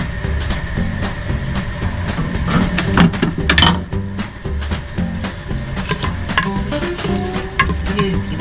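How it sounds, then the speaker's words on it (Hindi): Onions frying in oil in a pan for a qeema dish, a steady crackling sizzle with scattered clinks of utensils against the pot, close and fairly loud with no talking. "ये मैं फ्राई कर लूँगी"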